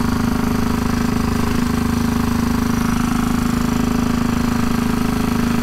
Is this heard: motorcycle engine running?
yes